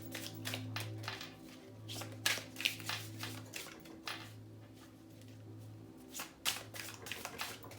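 Tarot cards shuffled and handled up close give a run of soft riffling and tapping bursts, irregular and quiet, with a faint steady hum underneath and no talking.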